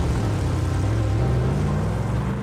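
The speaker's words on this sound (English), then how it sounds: "The petrol car's got the 700 brake horsepower V8 engines in them." A 700-horsepower petrol V8 in the Batmobile idles and drones steadily, a heavy low throbbing rumble with a faint rising pitch, continuous and fairly loud, with no voices.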